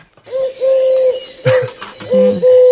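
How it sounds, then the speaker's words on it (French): Turtle doves coo in steady, drawn-out phrases, loud and close, with a brief rustle and a few faint chirps between the calls. "ça peut être les tourterelles."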